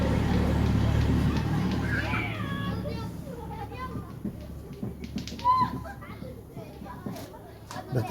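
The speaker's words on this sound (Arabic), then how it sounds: "الأطفال اللي في الشارع" Children playing in the street outside, their shouts and chatter drifting in from a distance, with occasional car noise and an adult voice speaking nearby.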